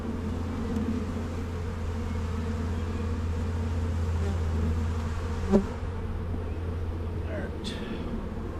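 Honeybees buzz steadily during a sunny-day hive inspection, a constant close insect drone with one brief sharp knock partway through and no talk.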